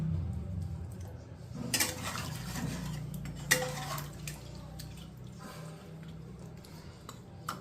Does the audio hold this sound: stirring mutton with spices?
yes